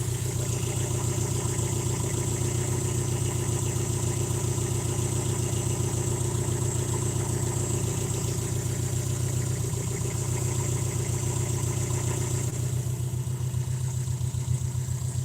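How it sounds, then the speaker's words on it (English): A car engine idling steadily with the alternator and power steering running, a continuous even hum with a constant low drone and faint whine, close and loud, no talk, with slight smoothing near the end. "the alternator and power steering sound quieter than they were earlier"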